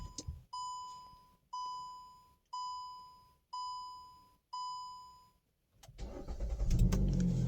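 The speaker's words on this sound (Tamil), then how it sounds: "லாக்கு, அன்லாக்கு, வண்டி ஸ்டார்ட் ஆகுது பாருங்கள்." A Hyundai i20 with a newly programmed smart key gives five evenly spaced electronic chimes, each ringing out and fading. Then the engine cranks and fires into a loud, close idle.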